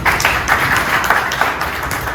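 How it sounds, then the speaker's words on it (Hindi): Audience at a motivational talk claps loudly and continuously in a fast, dense patter, close and sustained with no voices over it. "सबसे जल्दी तालियां बजाएं।"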